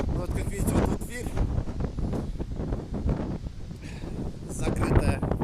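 Storm Eunice blowing gusts up to 30 m/s over the Baltic Sea at Baltiysk, Kaliningrad: heavy, buffeting wind roaring close against the microphone, with a voice talking partly beneath it.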